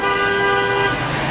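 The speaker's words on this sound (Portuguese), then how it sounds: "aquele ali buzinou" A car horn honking in city traffic, one loud sustained blast held close by for nearly a second, then fading into the steady rumble of the road.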